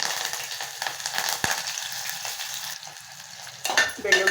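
Onions, curry leaves and mustard seeds frying in hot oil in a pan for a ridge gourd and potato dish, a soft sizzle with stirring scrapes and a utensil clink, close by.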